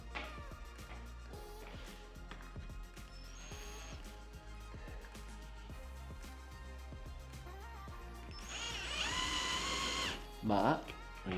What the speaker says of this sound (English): Then when you drill the next hole, in exactly the right place